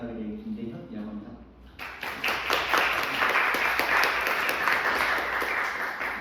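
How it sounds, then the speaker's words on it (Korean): Applause from an audience at a developer community talk as the presenter begins, dense clapping rising from about two seconds in and sustained to the end, following someone speaking. "박수 필요까지 없는데"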